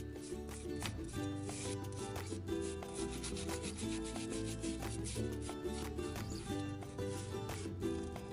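Dirt and debris are rubbed off a brake caliper near the rotor with close, continuous, rhythmic scrubbing strokes that repeat steadily without pause.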